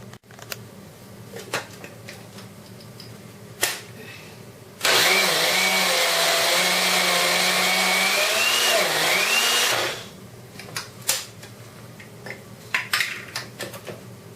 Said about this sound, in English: Now we grind second batch, remaining of half of the rice.